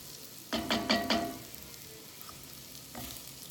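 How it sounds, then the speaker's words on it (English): Rice and onions toasting in a pan, a low sizzle with a short burst of scraping stirring strokes near the start and another brief stir toward the end, close and quiet. "We throw the rice in. We're going to stir this and just kind of toast it a little bit."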